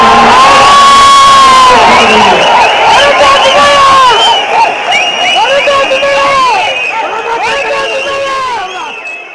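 A crowd at a PMK party general meeting erupts in loud cheering, shouting and whoops, with piercing whistles and clapping, and the noise slowly fades over the last few seconds.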